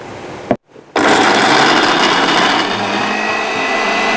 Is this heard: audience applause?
no